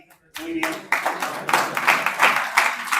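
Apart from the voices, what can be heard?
applause for a participant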